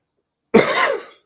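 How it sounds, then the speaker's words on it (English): A single sharp, close cough bursts out of silence and fades quickly. "The cough almost came back."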